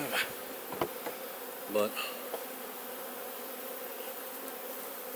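Bees buzzing around a lilac beehive in a Piedmont yard, a dense continuous hum with individual insects zipping close past in brief louder passes, a faint voice briefly heard.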